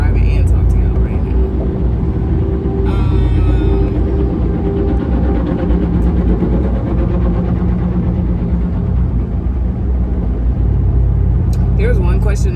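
A car driving, heard from inside the cabin as a constant low road rumble, with someone talking over it throughout and a few brief clicks and rattles.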